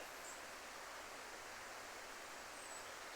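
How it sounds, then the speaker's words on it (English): A river flows steadily past beech woodland on an autumn walk, a soft, continuous broadband rush with no break, heard faintly and alone. "Can you hear the river?"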